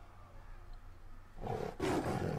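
A big tiger roars in the Elder Scrolls Legends card game, a faint low rumble building into a louder, broad growling roar over the last second, alone without talk.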